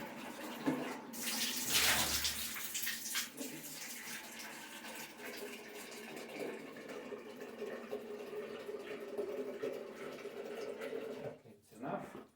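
Warm water pours steadily from a tap during cleaning at a pressure bench test, a continuous rushing splash with a brief louder gush early on, while a person speaks over it.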